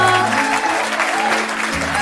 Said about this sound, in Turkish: Alkış, alkış, alkış kızıma